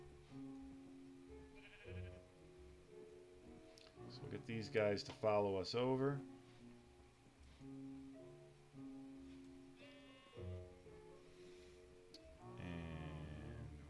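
Game sheep in Minecraft bleat in a few short, wavering calls near the middle, over looping background music and clicky game sounds, with someone talking before and after.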